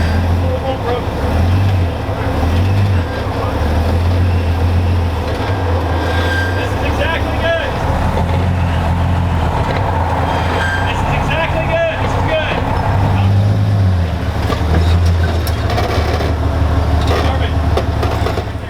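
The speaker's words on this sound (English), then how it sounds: "the Jeep that I'm driving here is not actually my Jeep" Jeep YJ crawling along an off-road trail, its engine a steady low rumble with broadband rattling and scraping of the vehicle working over rough ground, continuous and close throughout.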